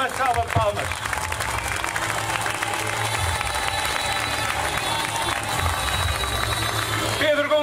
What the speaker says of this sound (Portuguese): para quem também peço uma salva de palmas